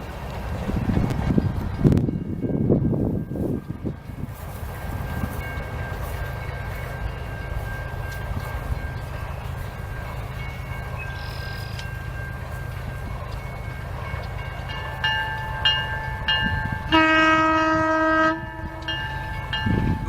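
An MLW RS-23 switcher locomotive rumbles steadily close by with a low diesel drone, then its horn sounds loud and sustained in several tones near the end, alongside clanking railcar noise at the start.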